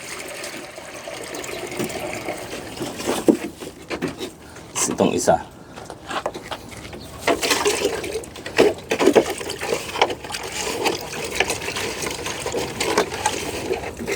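Water is poured into a bowl for dogs, giving intermittent splashing and trickling bursts mixed with light clatter, while a person talks briefly nearby.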